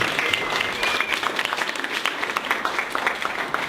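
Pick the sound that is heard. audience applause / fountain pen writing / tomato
audience applause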